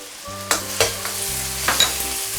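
Ginger, dried shallot and garlic sizzle in cold rapeseed oil in a wok over low heat, with a steady frying hiss and several sharp scrapes of the spatula stirring close by.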